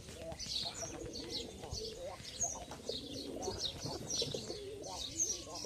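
White pigeons cooing close by, soft repeated throaty coos and a few chirps layered over one another, with a faint voice in the background.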